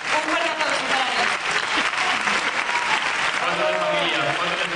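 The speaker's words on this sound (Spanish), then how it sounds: "Un fuerte aplauso para él." Steady, dense applause from the audience at the 2009 Círculo de Escritores Cinematográficos medals award gala fills the hall for several seconds, loud and continuous, with a voice speaking over it.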